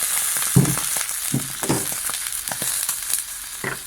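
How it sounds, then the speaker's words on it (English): A hot pan sizzling loudly as about a cup of white wine is poured in to deglaze it after frying pork for Portuguese bifanas, with a bubbling hiss and intermittent scraping stirs. "we're gonna just deglaze that pan with about a cup of white wine"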